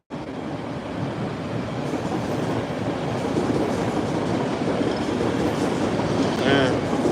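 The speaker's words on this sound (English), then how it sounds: "Is that a Needham train?" Needham line commuter train passing at Forest Hills station, a loud continuous rumble and rolling rail noise that holds steady throughout, with a brief squeal near the end, close by.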